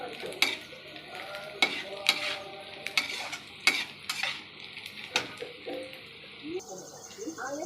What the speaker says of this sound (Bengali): ভালো করে নাড়াচাড়া করে একটু পেঁয়াজটা লাল লাল দেখে হয়েছে একটু ভাজা করে নেব।